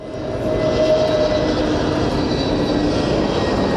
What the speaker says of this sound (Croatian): Prvi avion turske kompanije Pegasus na pisti Tuzlanskog aerodroma.